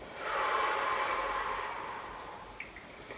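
A long, steady breath out during a qigong exercise, close and breathy, swelling then slowly fading over a few seconds, alone with no talking.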